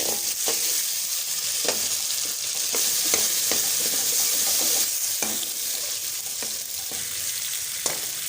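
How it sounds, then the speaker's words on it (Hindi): Onions frying in oil or ghee in a kadai give a steady, close sizzle with a bright hiss, broken by several sharp scraping stir strokes, and no voices. "कढ़ा में ऑयल या घी डालें और इसमें प्याज डालकर हल्का ब्राउन होने दें।"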